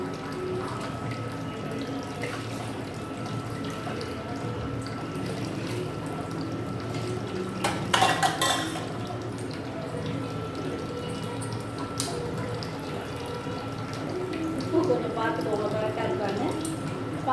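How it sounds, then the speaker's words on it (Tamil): Water pours steadily into a pot, about three cups, a soft continuous pour with a few brief clinks and splashes, in a quiet indoor kitchen while making ghee rice. "தண்ணி வெறும் தண்ணி வந்து ஒரு 3 கப்பு ஊற்றிக்கிறேன்"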